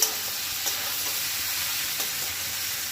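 Fried potato, pumpkin, eggplant and ridge gourd are stirred gently in a pan, with a continuous close sizzle and hiss of frying and faint scraping under it.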